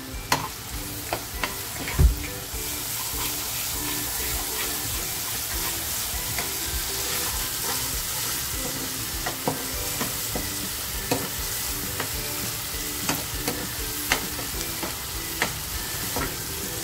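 A paste of ginger, garlic, green chili and coriander sizzles steadily in hot oil for moong dal amti, with a continuous close frying hiss broken by scattered clinks and stirring knocks, and no voices.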